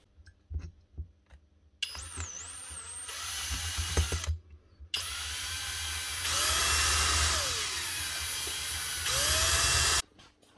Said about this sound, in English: I'm going to be out the price of bits trying to drill that thing.